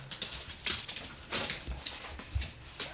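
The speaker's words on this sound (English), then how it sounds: "I hear a dog." A dog heard at a house in Michigan's Upper Peninsula, giving faint, scattered whimpers and yips across a few seconds, with no talk over it.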